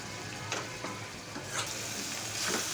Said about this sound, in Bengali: এই যে এখন ভাজা ভাজা হইতে আর একটু পানি দিব